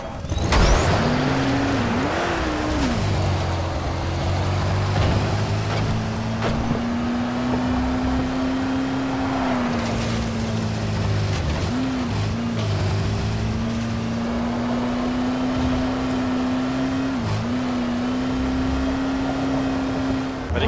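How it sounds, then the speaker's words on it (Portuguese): Car engine from the zombie game Dying Light drones steadily throughout, its pitch rising and dipping as the vehicle accelerates and eases off, loud and continuous with no talking. "O carro tá meio ruim, hein?"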